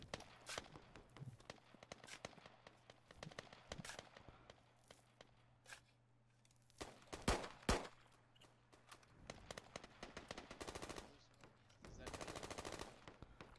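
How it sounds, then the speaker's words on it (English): Gunfire in the SQUAD video game: scattered sharp single shots and rapid automatic bursts at varying distances, some loud and near, others faint, with soft footstep-like thuds between them. "In northwest and north, we're getting shots."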